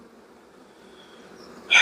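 Honeybees in an open beehive box hum as a faint, steady drone, rising to a brief louder burst at the very end.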